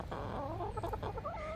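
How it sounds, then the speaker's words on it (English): Chickens clucking together in a busy, overlapping chorus, fairly close, with short murmured calls rising and falling throughout. "Chickens are doing good this morning."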